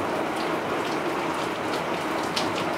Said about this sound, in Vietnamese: Trời cũng đang mưa.